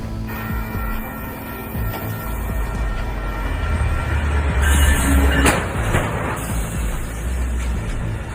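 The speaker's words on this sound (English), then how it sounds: "Train hits semi-truck in Richmond," A train strikes a semi-truck at a rail crossing in Richmond, Texas: a heavy, continuous rumble of rail traffic with a sharp, loud crash burst about midway, then grinding noise fading slightly.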